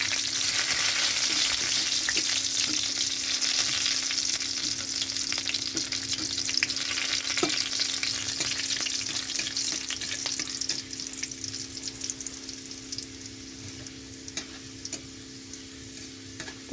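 Chopped garlic sizzles in hot oil in a wok, with a loud, dense, continuous frying crackle and occasional light ticks from stirring, and no talking.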